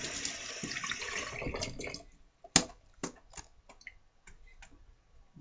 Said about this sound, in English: Then I wet my brush. Get my brush good and wet.